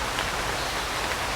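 Rain pours over woodland along mud paths in a Singapore nature reserve, a constant broadband patter of drops on foliage, close and uniform from start to finish, with no other sounds standing out.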